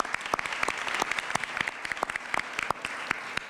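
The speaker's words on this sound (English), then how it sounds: "a round of applause for the Mountain View Human Relations Commission" An audience at a civic roundtable on free speech gives a round of applause for a human relations commission, brisk crisp clapping from a modest crowd, fairly close and continuous.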